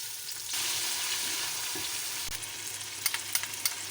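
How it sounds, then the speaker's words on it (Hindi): Ginger garlic paste sizzles with onions in a hot pan while cooking kadhi pakora, a steady close frying hiss with a few light stirring knocks near the end. "अब मैं इसमें जिंजर गार्लिक पेस्ट डाल दूँगी।"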